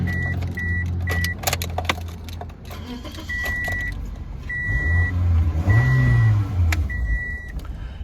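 A 2007 Pontiac Vibe's dashboard chime sounds as repeated short electronic beeps in an irregular pattern during an ignition key cycle, with faint key jingling and cabin movement, a low hum rising toward the end.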